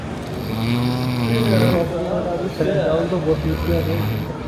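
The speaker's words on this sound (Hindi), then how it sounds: "और नींद ऐसी खर्राटे खा रही है" A sleeping person snores loudly and close by in long, droning rasping breaths, with a voice mixed in underneath.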